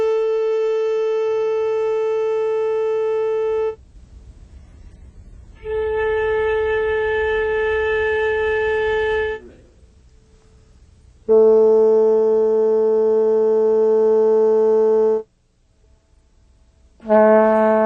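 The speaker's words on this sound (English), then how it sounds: "Here's the same note played on many different instruments." One note played in turn on several different instruments, each a sustained tone with its own rich set of overtones, separated by short quiet gaps, four entries in sequence with no talking.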